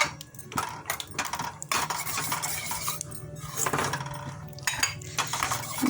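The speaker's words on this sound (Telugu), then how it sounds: "జీడిపప్పు వేయించుకుందాము" Cashew nuts frying in a pan for sago payasam, with a steady scraping stir and metallic clinks of a spoon against the pan over a soft continuous sizzle, close up and without talk.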